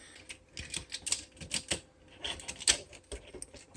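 Plastic parts of a transforming robot toy, the Titanium Saints Alpha Trion figure, folded and clicked: a quick, irregular series of close, sharp clicks and snaps with brief pauses between them.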